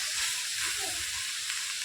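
Washed, drained coriander leaves hitting a hot pan, a bright steady sizzle with soft hissing steam, fairly quiet and even across the short moment, a faint murmur in the background.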